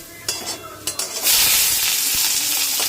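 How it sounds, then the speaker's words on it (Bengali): A small amount of onion hits hot oil in a pan, with a few sharp stirring clatters first, then a loud, steady sizzle that flares up and holds close and continuous. "দেখো তেল গরম হয়ে গেছে, এবার এর মধ্যে জাস্ট অল্প করে একটুখানি পেঁয়াজ দিয়ে ভাজবো"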